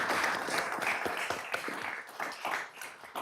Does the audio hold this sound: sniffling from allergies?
no